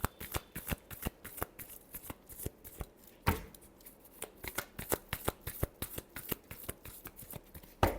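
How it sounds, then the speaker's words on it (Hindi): Tarot cards shuffled by hand, close crisp riffling flutters in a fast regular rhythm with one louder slap partway through, no speech. "Last shuffle."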